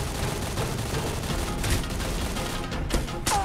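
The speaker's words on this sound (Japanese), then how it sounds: "さあ、銃声。" Dense, continuous gunfire in the mobile battle-royale game Knives Out, with an M4 rifle among the weapons, forming a steady barrage of rapid shots and blasts without pauses.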